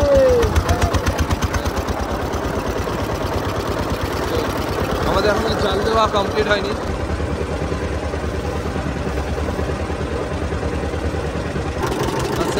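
A fishing boat's engine idles on the Matla River, a steady low throbbing rumble close by, with people talking over it throughout.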